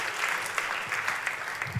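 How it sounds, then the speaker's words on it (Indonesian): A church congregation claps in a dense, continuous burst of applause, with no talking over it. "Tepuk tangannya pula yang paling meriah buat Tuhan kita."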